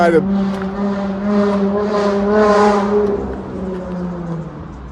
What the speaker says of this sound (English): Y'all might not believe me, that was a Charger.